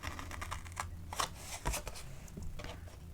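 Paper being cut with scissors or a blade while shaping pieces for a festive candle holder: a run of quick, dry snips and crisp rustles close by, with no voices.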